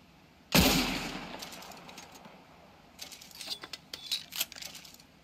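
One loud, close gunshot cracks out at the start and rings away. A quieter spatter of scattered shots and metallic clinks follows a few seconds later during a shoot-out.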